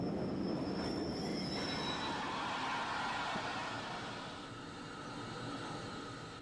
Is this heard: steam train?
yes